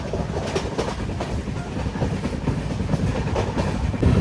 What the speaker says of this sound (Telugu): కారూరు దాటగానే ఏరోడ్ పోయే టైంలో ఇక మళ్ళీ స్పీడ్ అయితే అందుకుంది